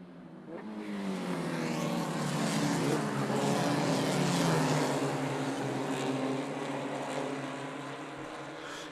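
Formula First open-wheel race cars sweep around the back section of a circuit in New Zealand, a sustained, loud pack of engines droning and blending together for the whole stretch, with no talk over it.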